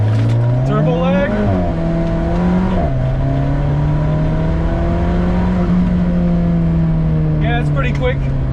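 An Alfa Romeo 4C engine accelerates at full throttle in dynamic mode, its note climbing through the revs with a brief dip at a gear change and then sustaining loudly up close.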